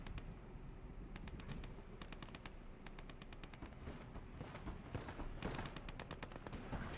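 Rapid bursts of gunfire in the video game Gates of Hell: Ostfront crackle repeatedly over a steady rumbling background, shots coming in irregular clusters at moderate distance.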